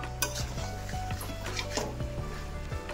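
Hot water goes into a pan of bamboo shoot and meat curry, with close clattering and scraping of a spoon against the pot over a soft sizzle, in short repeated strokes.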